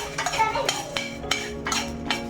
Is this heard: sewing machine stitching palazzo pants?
no